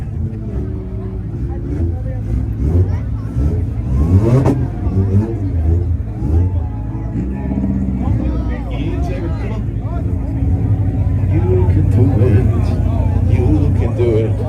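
Import cars revving at a two-step rev battle face-off in Woodburn, Oregon, engines loud and rising and falling steadily beside an announcer talking over the crowd.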